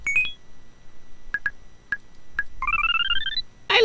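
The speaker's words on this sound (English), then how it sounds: "I like 8-bit mode. That noise." Retro 8-bit chiptune effect from the Yume Nikki 3D video game: a few short isolated bleeps followed by a bright rising two-tone electronic sweep, moderately loud and heard alone.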